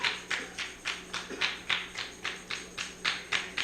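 A crowd claps together on request, roughly ten crisp, regular claps in a steady beat, close and clear with no talking.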